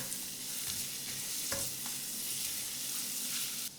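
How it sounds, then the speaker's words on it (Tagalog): Minced garlic sizzles and crackles steadily in melted margarine in a hot pan, with a few soft stirring scrapes over the continuous close frying hiss. "Next, igigisa ko na din yung bawang."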